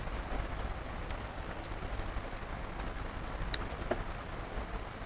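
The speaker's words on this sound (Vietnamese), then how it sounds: "Đang mưa, trời đang mưa." Steady rain pours down outdoors in the rural Mekong Delta countryside, a dense continuous hiss of drops with occasional louder individual splashes and no talking.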